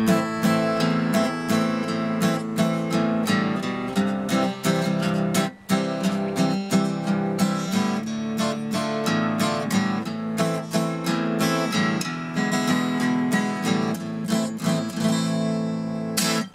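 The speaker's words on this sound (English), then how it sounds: "So, in case you've never heard a sea shanty, the gist of the music sounds like this." A sea shanty strummed on an Emerald X10 acoustic guitar: a steady, driving strumming pattern over simple chords, loud and close, continuing without a voice for about sixteen seconds.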